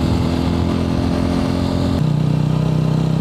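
A motorcycle engine runs close by on a ride in Kanyam, Ilam, in eastern Nepal, with a loud, steady throb that shifts to a lower, smoother drone partway through.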